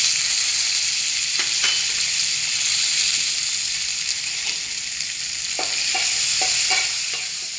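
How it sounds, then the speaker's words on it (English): Mustard seeds and curry leaves sizzling in hot oil, heard as a loud, continuous crackling fry with scattered sharp pops and stirring clicks, close up, with no talk. "some mustard seeds, and curry leaves"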